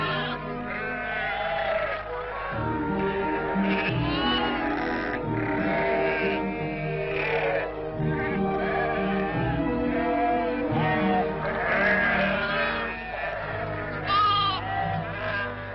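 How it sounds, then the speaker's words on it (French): Sheep bleat continuously at a 1950s Algerian livestock market, many overlapping loud, wavering calls from a crowded flock close by, with no talk over them. "Nous te choisirons tes moutons"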